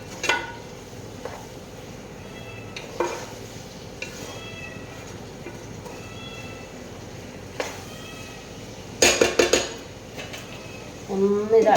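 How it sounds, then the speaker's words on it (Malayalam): Avial with added ground coconut is stirred in a pot: a spoon scrapes and taps against the metal at intervals over a quiet background, then comes a burst of clattering near nine seconds and a final clank as the lid goes on. "എന്നിട്ട് ഒന്ന് ഇളക്കിയിട്ടേ ഒന്ന് അടച്ചു വെക്കണം."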